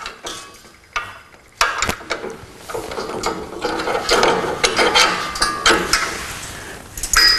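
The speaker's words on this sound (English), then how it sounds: "We can then lower the rim clamp." Rim clamp being lowered on an electric power drive drum rotator, a steady run of loud metallic ratcheting clicks and mechanical clatter, close and continuous without talk.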